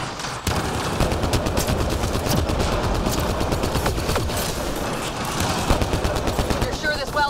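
Sustained rapid automatic gunfire from a turret in the video game Mass Effect Andromeda, dense and continuous bursts filling the scene with a mechanical whir near the end and some talk over it.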